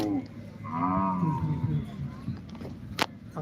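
Kangayam cattle at a native cattle market in Coimbatore, a drawn-out moo rising and falling over about a second, close and loud, with crowd chatter and other market noise continuing around it.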